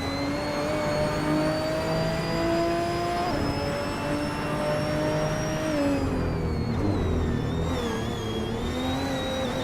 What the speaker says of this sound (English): Bot Cobber is driving a Lamborghini Aventador from 2011.